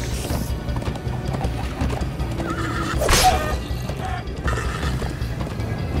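A horse whinnies loudly in Minecraft Story Mode amid clip-clopping hooves and a busy game soundtrack, with the neigh peaking midway through the clip.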